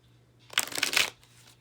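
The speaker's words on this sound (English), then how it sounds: "These are Oracle Gaia cards, and they're by Toni, Carmine, Salerno, Gaia" Oracle Gaia tarot cards shuffled in a quick riffle, a dense papery burst of flicking and slapping lasting about half a second, close and fairly loud, followed by faint handling rustle.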